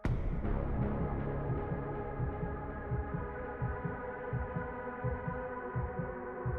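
Heartbeat thumps pulse in a steady rhythm through a rock music video, sitting under sustained droning music, loud and close throughout.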